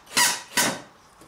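Two loud, close squeaks as a screw is driven into a pre-drilled hole while a fiberglass 12-inch subwoofer box frame is built, each one a harsh, grinding screech, then a faint short squeak.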